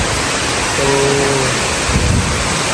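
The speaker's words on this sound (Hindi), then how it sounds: "मौसम बहुत ज़्यादा क्लाउडी होने के साथ साथ बारिश बहुत ज़्यादा तेज़ हो रही है" Heavy, steady rain pours down under an overcast sky as a dense, even hiss that fills the whole clip, with a brief faint tonal hum partway through and no distinct thunderclap standing out.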